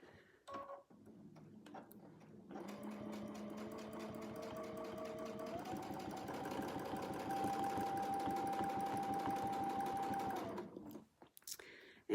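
A sewing machine stitches a squat oval clamshell quilting design, running in a fast, steady mechanical rhythm for several seconds after a few short starts, then stopping, close and clear with no speech.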